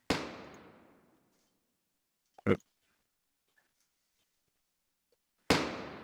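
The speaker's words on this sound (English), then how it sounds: "So right here, the gun fires." A pistol gunshot sound effect: two loud, sharp bangs several seconds apart, each ringing off into a decaying tail, with a brief mechanical click between them and silence around.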